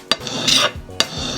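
A knife bolster is rubbed against a diamond sharpening stone to round it, giving a couple of short, gritty rasping strokes, close and brief.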